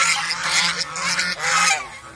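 Nearby geese honk loudly in a rapid cluster of nasal calls that overlap for about two seconds, then fade.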